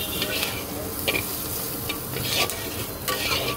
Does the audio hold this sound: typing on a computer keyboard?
no